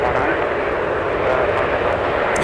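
A CRJ-900 or CRJ-700 regional jet touches down on runway 12 right in a winter storm at Minneapolis–St. Paul Airport, a loud broad roar of engines and rushing air heard from nearby.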